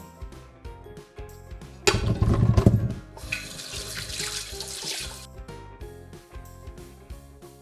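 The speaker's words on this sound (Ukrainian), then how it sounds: "Картоплю ретельно миємо." Potatoes are washed in a kitchen sink under running tap water, a loud splashing gush that shifts to a steady hiss of flowing water, with faint clinks around it.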